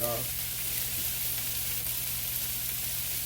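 Vegetables sautéing in butter on high heat, a steady even hiss of frying that fills the whole stretch, close and constant with no distinct stirring.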